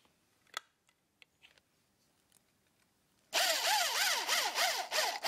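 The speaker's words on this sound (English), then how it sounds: "I'm going to drill a small hole into one top edge." A few faint taps and clicks give way to a loud, close drill boring a small hole into the top edge of a flattened metal rifle target. The drill whines steadily and its pitch wavers as it bites.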